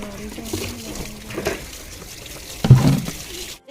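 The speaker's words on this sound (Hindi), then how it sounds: "पानी भरना" Tap water runs into a container in a village home, a steady splashing trickle that swells louder near the end before cutting off abruptly, with faint background voices.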